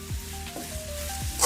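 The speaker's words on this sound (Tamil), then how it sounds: "வெங்காயம் நல்லா வதங்கின பிறகு கருவேப்பிலையும் போட்டு கொஞ்சம் வதக்கி விடணும்" Onions and curry leaves sauté in a pan for chilli chicken, giving a steady soft sizzle with a few sliding scrapes from stirring, close and moderately quiet with no talking.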